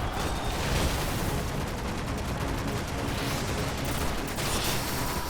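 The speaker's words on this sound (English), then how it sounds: "That was another grenade type there. Don't remember what it's called. Is it called Swarm? Swarm grenade?" Grenade detonations in the Destiny video game, a dense and continuous crackle of small bursts over a full, steady roar, loud throughout with no talking.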